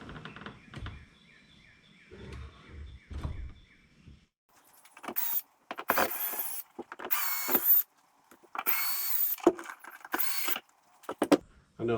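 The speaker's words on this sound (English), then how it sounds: "he's taking the screws out" A power drill backs screws out of a Tracker bass boat deck in short, loud, high-pitched whirring bursts separated by pauses, after a quieter stretch of faint mechanical clatter at the start.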